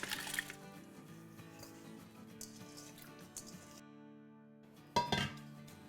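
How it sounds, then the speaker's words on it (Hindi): Rice and water tipped into a red Instant Pot, with small clinks and a soft patter of grains against the metal insert, quiet for most of the stretch, then a sharper clatter near the end over faint background music. "अब हम ये अपने इंस्टेंट पॉट में डाल देते हैं"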